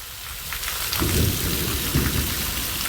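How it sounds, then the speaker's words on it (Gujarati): Heavy rain pours down in a dense, steady roar while low rumbles of thunder swell underneath, loud and close with no voices. "તમે જોવો મિત્રો વરસાદ ભૂકા કાઢે છે"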